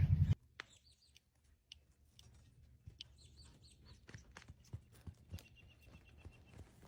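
Horses in a farm round pen, with scattered hoof clip-clops and thuds at moderate distance, alongside clucking chickens and birdsong in a quiet outdoor setting.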